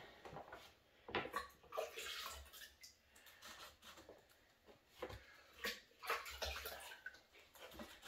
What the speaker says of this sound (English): basically put them in the water, give them a squeeze